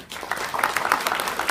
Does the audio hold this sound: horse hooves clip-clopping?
no